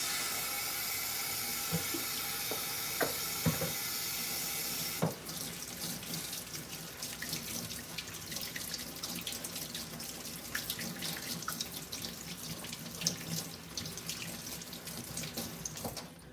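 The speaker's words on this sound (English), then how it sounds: "So I'm going to wash my hands." A bathroom faucet runs steadily into a sink during handwashing, with a continuous close water rush, small knocks and splashes, and a change in the flow about five seconds in.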